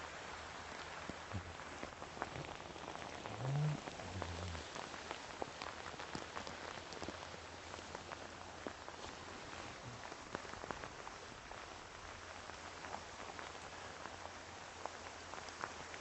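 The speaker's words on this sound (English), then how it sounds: "it is raining hard" Heavy rain pours down steadily in poor visibility, a constant soft hiss of drops that stays fairly quiet and even throughout, with no voices.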